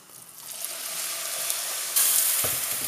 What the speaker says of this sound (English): And I'm just going to add water from the kettle.